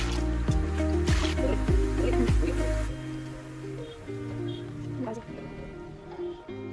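Water drains out of an aquarium fish pond, trickling and dripping close by with wet splashy patter, louder at first then settling to a softer flow.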